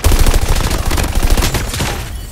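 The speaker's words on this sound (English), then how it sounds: "I'm getting shot from behind, Lobby." Dense, continuous gunfire from a Call of Duty Mobile match, loud and close, with rapid overlapping bursts of automatic weapons fire that barely let up for over two seconds.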